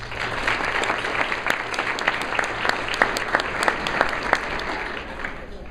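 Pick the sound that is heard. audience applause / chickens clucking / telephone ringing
audience applause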